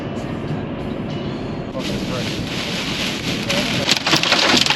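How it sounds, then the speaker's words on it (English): Hail pummeling the right side of a car during a storm, a dense steady roar of hard pelting that swells louder and more clattery toward the end, heard from inside the vehicle. "the right side of my car is getting pummeled by hail"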